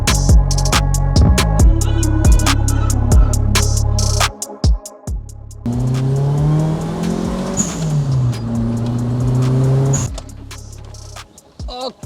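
A two-door Toyota Starlet EP71 converted to turbocharging accelerates hard and loud, its engine note climbing through the revs, dropping briefly at a shift, then pulling up again with strong boost before easing off.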